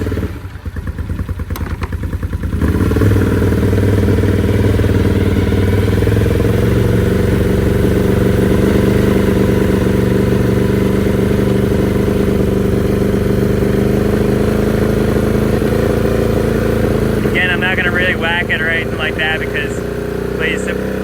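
A Can-Am 850 engine fitted with race cams and fed race gas runs steadily and loudly throughout, a lumpy mid-pitched drone after a brief quieter start, with the rider's voice heard over it.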